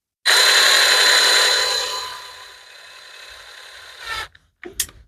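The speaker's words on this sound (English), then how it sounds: "we're just going to mount this in the drill" A power drill spinning a glove box hinge against sandpaper whirs loudly at high speed, then winds down and fades before stopping, followed by a couple of brief clicks.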